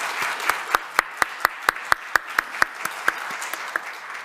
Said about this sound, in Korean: 우리 큰 박수로 한번 격려하고 축복하겠습니다